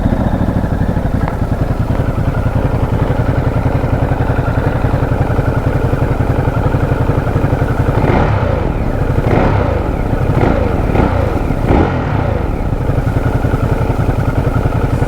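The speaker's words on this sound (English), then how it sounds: "Whilst we're here, might as well do a little full cheeky exhaust." A Ducati Monster motorcycle with a full exhaust idles with a loud, steady throb, then several sharp throttle blips rev up and fall back in quick succession before it settles again.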